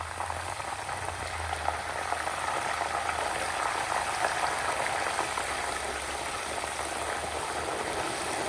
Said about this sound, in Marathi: ह्याचा आवाज अजूनही बदललेला नाहीये, अजून सळसळ असा आवाज येत नाही, थोडंसं पाणी आहे अजून त्याच्यामध्ये.